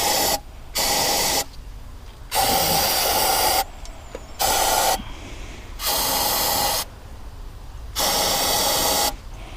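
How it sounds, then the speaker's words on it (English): A small spray tool blasts down inside a Caterpillar engine head during injector installation, giving a series of loud hissing spray bursts separated by brief pauses, close up with no talking. "I got a little tool there that we'll spray down inside here"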